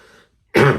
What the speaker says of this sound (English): Excuse me, pardon me. I've been coughing lately.